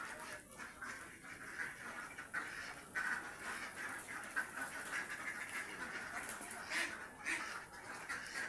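Ducks at a duck farm in Barangay Santa Catalina Sur, Candelaria, Quezon, keeping up a dense, continuous clamor of overlapping quacks and calls across the flock, moderately loud throughout.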